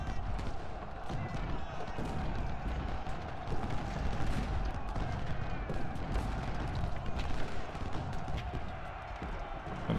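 Distant artillery fire from Civil War cannon batteries in the strategy game Ultimate General: Civil War, a continuous rumble of booms and crackling gunfire throughout, with a voice talking over it.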